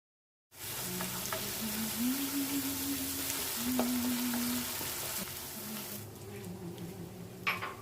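Ground spice paste sizzling in hot oil while bitter gourd is cooked with turmeric and coriander powder, a steady close frying hiss with some stirring, and a faint hum running under it.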